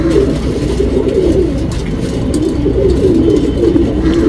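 Pigeons kept for tournament racing coo in a low, continuous rolling murmur, close and fairly loud, with faint traffic noise in the background and no speech.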